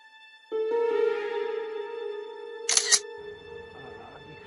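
A phone camera takes a selfie: a sustained electronic tone plays, then a short, sharp shutter click stands out clearly, followed by faint low rustling.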